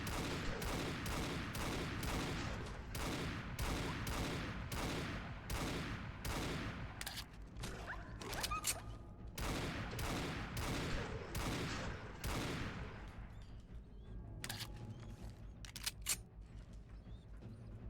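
Rapid volleys of .38 revolver gunfire from the game Fallout 4, a loud run of sharp shots in quick succession for about thirteen seconds, thinning to a few scattered reports near the end with no talking.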